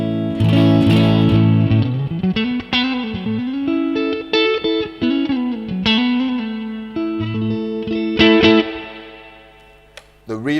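An electric guitar played through a UAFX Dream '65 Deluxe Reverb amp pedal rings out in sustained chords and single-note phrases with lush reverb tails, loud and clean, fading out toward the end.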